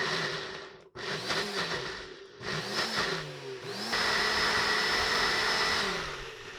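Food processor or blender pulses olive pesto ingredients toward a paste: several short motor bursts with gaps between them, then a steadier whirring run, close and fairly loud.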